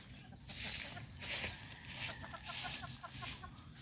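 Bulik gamefowl chickens on a gamefowl breeding farm clucking in repeated soft bursts, moderately near, over a steady outdoor background hum.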